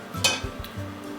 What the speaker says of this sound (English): you add in your vanilla and your butter and stir it together